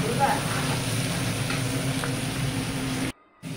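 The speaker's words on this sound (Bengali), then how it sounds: "এইদিকে মাছ ভাজা হইব, কার্পু মাছ" Carp frying in a wok gives a steady, close sizzle throughout, cutting off briefly near the end.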